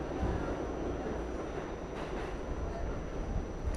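A New York City subway train rumbles steadily at the Lexington Avenue/59th Street platform, with a hollow low roar and faint clatter, heard from nearby without talk.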